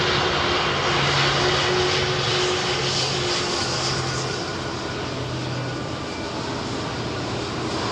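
A Boeing 777 jet airliner takes off at the Farnborough 2022 airshow with a loud, steady roar of engines that fills the whole stretch and fades slightly toward the end, with no voices.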